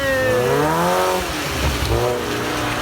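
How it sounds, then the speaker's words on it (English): A car drifting nearby, its engine revving hard and holding loud, steady pitch that sweeps up and down, with tire noise mixed in throughout. "So this guy's just drifting casually."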